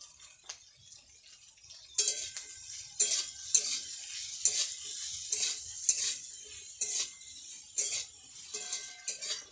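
Vegetables for veg fried rice, with chopped green chilli and salt, stir-fried in a pan: a soft sizzle under regular scraping strokes of a spatula, each stir sharp and close, with light metallic clinks.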